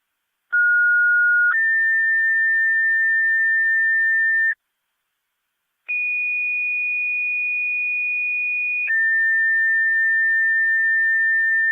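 Fire dispatch paging tones from a Niagara County police and fire scanner: two sequences of steady, loud beeping tones, each a lower pitch followed by a longer higher one, separated by a short gap.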